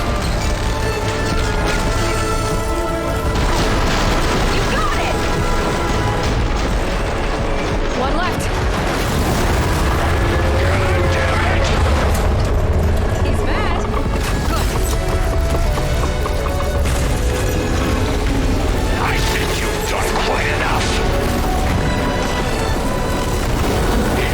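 In the Horizon Forbidden West Burning Shore game, missiles strike a machine, producing repeated heavy booms within a dense, loud mix of combat noise and mechanical clatter, with a voice talking over parts of it.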